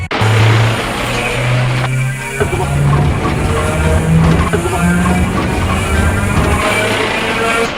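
A van's engine revs hard and accelerates during a chase, a loud continuous roar with rising and falling pitch that holds for the whole stretch, with faint voices mixed in.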